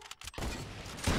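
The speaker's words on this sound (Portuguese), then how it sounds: "Eu dei um tiro de shotgun sem querer no cara." A shotgun shot in the video game Fortnite: one sudden, loud blast that breaks into a dense, rough burst. It is heard alone, with no talking.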